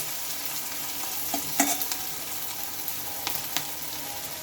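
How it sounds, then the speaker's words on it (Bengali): Onions being lightly browned in a pan give a steady, close sizzle, with a few sharp clicks and scrapes of stirring scattered through. "পেঁয়াজটাকে এখন আমি একটু কালার করে ভেজে নেব হালকা"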